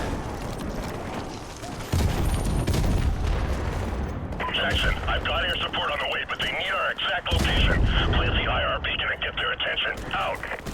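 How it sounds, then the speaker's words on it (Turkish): Explosions in the video game Modern Warfare Remastered, a heavy boom followed by crackling debris and a second blast, with someone talking and exclaiming excitedly over the loud game audio. "Bak bak göstereceğim patlamayı size."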